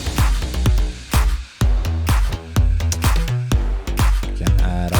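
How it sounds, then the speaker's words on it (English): A slap house track in the mix with its bass left unprocessed, punchy kicks and plucky bass notes pulsing in a steady dance rhythm alongside chords, loud and unbroken, with no voices. "if you remove all the processing on the bass, in the mix it sounds like this"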